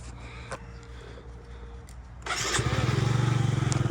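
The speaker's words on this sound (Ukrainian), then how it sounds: "Сережа, ну, заведу, заведу з кнопки, почекай." Yamaha Jog SA36 fuel-injected scooter engine started with the electric button: a quiet stretch, then the small engine catches and settles into a loud, steady pulsing idle close by.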